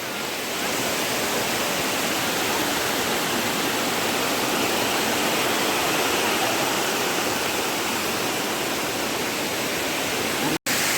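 Water rushes steadily down a hillside stream near a garden, a dense, loud, continuous roar with no break until a brief cut near the end.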